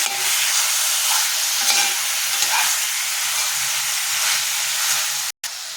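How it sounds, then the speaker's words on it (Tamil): Chicken pieces for Punjabi-style hariyali chicken sautéing in oil over a medium flame, a steady continuous frying sizzle and hiss with faint stirring, cutting out abruptly near the end; no voices. "மீடியம் ஃப்ளேமில் வச்சு 5 நிமிஷம் அப்படி வதங்க விடுவோம்."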